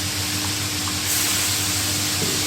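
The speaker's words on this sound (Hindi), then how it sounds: "और अब इसमें हम डालेंगे सफ़ेद सिरका" White vinegar poured into a hot pan of egg fried rice, giving a steady close hiss and sizzle that runs evenly throughout with no voices.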